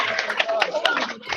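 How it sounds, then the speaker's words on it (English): A classroom group claps for a pupil, a short burst of scattered, uneven hand claps close by, with voices talking over it. "Give her a round of applause."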